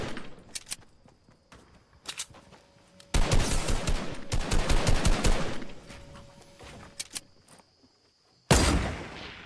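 Video game gunfire in a shooter match: scattered single shots, then dense bursts of rapid automatic fire that fade out, followed by one more sharp burst near the end.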